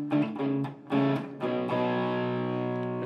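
An electric guitar runs through a Helix 808-style light overdrive snapshot, playing a few picked chords and then one long, ringing sustained chord with mild, gritty distortion.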